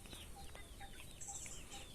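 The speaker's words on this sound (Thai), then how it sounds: "แม่ก็ปล่อยไก่เข้าไปข้างในครับ เป็นเล้าไก่ไม่ทำเล้าไก่ เลี้ยง เลี้ยง ไก่สายพันธุ์ไก่บ้านนะครับ" Native Thai free-range chickens in an enclosed mesh coop give faint, soft clucks and short calls at intervals over a low, steady background hum.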